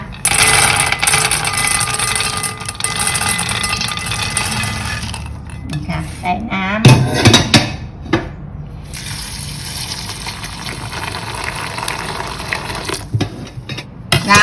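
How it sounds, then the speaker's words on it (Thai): Peanuts being washed in water in a pan for dry roasting: running tap water pours steadily, then the nuts clatter and slosh as they are stirred by hand, with someone talking at times. "ตอนนี้เราก็จะนำถั่วมาล้างนะคะ"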